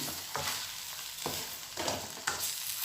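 Minced pork fries in a pan for Thai tamarind chili paste. A bright, constant sizzle is broken by about four distinct spatula stirring strokes, close and without talk.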